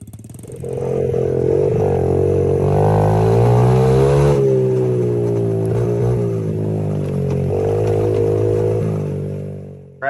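A Honda CRF70 dirt bike with weak shocks, just refitted, runs a loud test lap, its small single-cylinder engine droning and rising and falling in pitch through gear changes for about nine seconds, with no talk.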